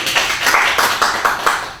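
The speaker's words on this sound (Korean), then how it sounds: "우리 크게 박수합니다" A short burst of applause, several people clapping in a quick uneven rhythm, close and fairly loud.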